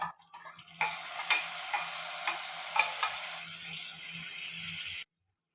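Grated tomato hits a pan of frying fish curry with tomato and coriander, setting off a steady, fairly close sizzle with a few stirring scrapes that stops abruptly near the end.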